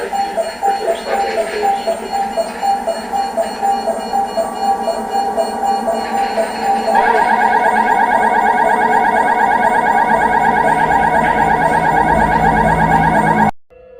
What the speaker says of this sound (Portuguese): Os alarmes ecoam, indicando que houve uma invasão